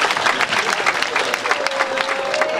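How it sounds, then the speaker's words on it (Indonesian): Crowd at a quiz or music-guessing event breaks into dense, loud clapping, a lively patter of many hands with a faint background tone running beneath. "Tepuk tangan ya."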